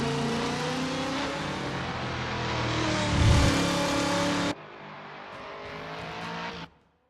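A Toyota Supra LM GT1 race car in the Assetto Corsa sim at Road America, its engine droning and revving steadily under load, then dropping to a quieter tone before cutting out near the end.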